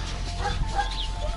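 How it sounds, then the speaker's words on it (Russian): A Central Asian Shepherd dog, a large Alabai kept at a boarding kennel, gives loud, close barks and whimpers, with kennel noise underneath. "Это азиатская овчарка."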